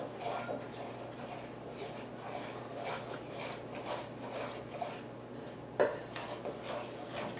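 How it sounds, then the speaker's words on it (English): Cookie dough being mixed by hand in a bowl, a steady run of soft scraping and clinking of utensil against the bowl with one sharper knock near the end, fairly quiet and close. "we're going to mix it all up until you don't see any more of the dry ingredients"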